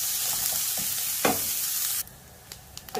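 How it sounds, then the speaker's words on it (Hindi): Vegetables fry in oil for Chinese fried rice, sizzling with a steady hiss and occasional stirring scrapes, then the sizzle drops sharply to a quieter crackle with a few small clinks. "इनको 3 से 4 मिनट तक जो हमने ऐसे फ्राई करना है ताकि ये सूख हो जाए।"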